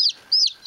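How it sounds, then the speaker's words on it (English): Day-old Buff Orpington chicks cheep in two bright, high-pitched bursts with a third starting at the end, sharp repeated peeps close to the microphone and no talking. "these are probably a day old chicks"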